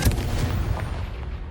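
Confringo blasting spell from Hogwarts Legacy going off as a deep, booming explosion with a sharp initial blast, followed by rumbling low-end reverberation that lingers loudly throughout.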